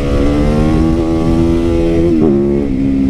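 A gas motorcycle revving hard during a wheelie, a loud close engine roar with a steady harmonic drone that dips briefly as the throttle shifts, then holds again.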